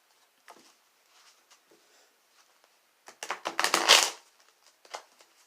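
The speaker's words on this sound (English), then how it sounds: "I'm just going to finish up shuffling up the cards" A brief burst of tarot card shuffling riffles through the middle, a rapid papery flutter, with scattered soft taps and handling sounds before and after in a quiet room.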